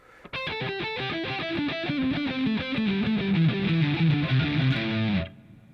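A distorted electric guitar plays a fast lead run of rapid, descending and winding notes, loud and steady for about five seconds before stopping.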